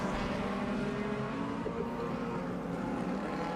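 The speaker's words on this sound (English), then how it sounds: "but Shea with that big V8 under the hood gets the power to the ground down the main straight" V8-powered Super Street race cars at Cairns Speedway roaring down the main straight, a loud continuous engine drone without pause, close and dense throughout.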